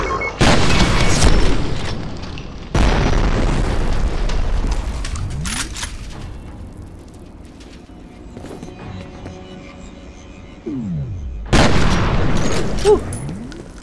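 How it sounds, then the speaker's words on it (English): A shotgun fires in the shooter video game F.E.A.R. Extraction Point, three loud booming blasts spaced several seconds apart, each with a rumbling tail and game ambience between. "Shotgun's a shotgun"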